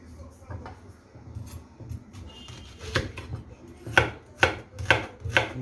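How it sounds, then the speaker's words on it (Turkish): Four sharp, evenly spaced knife chops through onion on a board stand out near the end, following quieter kitchen handling noises in the background. "Soğanla da doğrayacağım şimdi"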